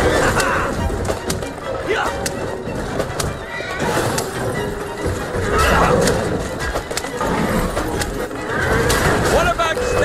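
In Assassin's Creed Syndicate, a horse neighs amid clip-clopping hooves and rumbling street noise, with a speaking voice mixed over the bustle.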